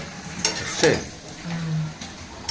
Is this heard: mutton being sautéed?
yes